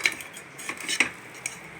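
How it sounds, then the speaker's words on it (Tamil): A spoon stirs little millet coriander rice just taken from a pressure cooker, making a few light metallic clinks and soft scrapes, close and quiet. "இப்போ குக்கர்லேருந்து எடுத்து நம்ம ஒரு கிளறி விட்டுட்டு"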